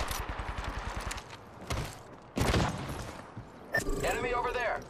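Rapid bursts of Alternator submachine gun fire in Apex Legends, a fast run of sharp shots at the start followed by a few louder blasts and impacts, with the clatter of a firefight continuing throughout.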